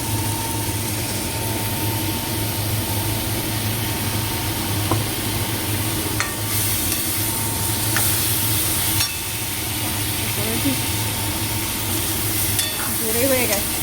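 Ginger, cumin, coriander and tomato paste hit a hot pan of home-cooked curry, giving a steady close sizzle with stirring clatter over a constant low burner hum.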